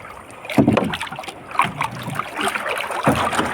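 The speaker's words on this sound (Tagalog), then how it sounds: "At sasagwan muna tayo pabalik sa laot." Paddle strokes pull a small rowboat through rough waves at night on the open sea while squid fishing, with choppy water splashing and wind noise. Three splashy strokes land at a steady, unhurried pace, close to the microphone.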